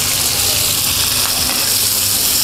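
Ingredients sauté in a pan for grilled rib satay, a steady, close, even sizzle of frying that runs without a break and carries no speech.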